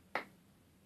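A single sharp hand clap rings out once, close and crisp, then fades into a quiet room with no talking around it.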